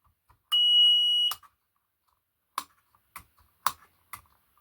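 A Volvo Penta marine engine panel alarm gives a single sustained electronic beep that rings out clearly for almost a second, followed by a few sharp clicks and taps in otherwise quiet surroundings.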